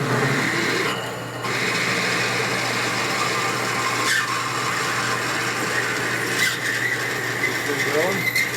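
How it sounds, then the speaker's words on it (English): A continuous high-pitched step drill whine grinding through metal during a 1965 Harley-Davidson Panhead motor rebuild, loud and close, with occasional squealing bursts. "Keep drilling."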